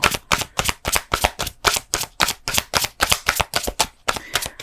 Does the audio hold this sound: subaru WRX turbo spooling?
no